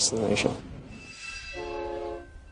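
A freight train runs along the Alameda rail corridor: rumbling wheels and a sustained horn-like tone that rises into a steady chord, near and fairly loud, with a voice briefly heard at the start.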